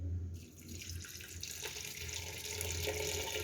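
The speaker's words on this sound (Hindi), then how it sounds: "और ज़रूरत के हिसाब से पानी ऐड करेंगे।" Water runs in a steady, full stream, splashing continuously into a pressure cooker close by, with a low hum underneath.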